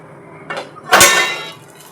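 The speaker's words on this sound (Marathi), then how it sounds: "आता मी झाकण ठेवते" A metal lid is set onto a pan while cooking paper dosa at home: a light clink, then a louder single clang with a short ringing decay, close and alone.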